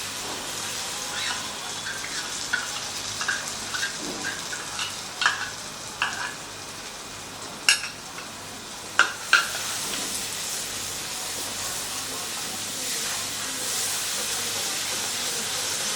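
Spice paste with ginger and green chili hits hot oil in a pan for a vegetarian chhana curry, giving a steady close sizzle broken by sharp scraping stirs, with no voices.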